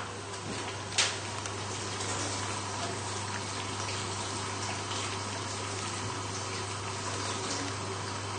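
Water runs steadily from a kitchen tap during hand washing, a constant broadband gush with a brief knock near the start and no talking.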